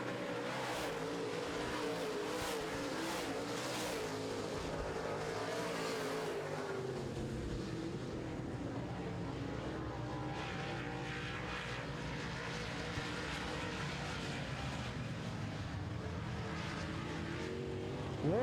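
Modified race cars racing on a racetrack, a steady loud roar of engines passing and sustaining throughout with rising and falling pitch as the pack circulates.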